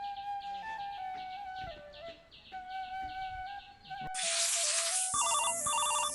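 A mobile phone rings for an incoming call with a bright, chirpy electronic melody of repeating tones, turning into a louder, harsher burst of tones toward the end.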